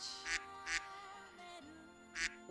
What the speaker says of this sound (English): I'm trying to get them to quack along with the beat.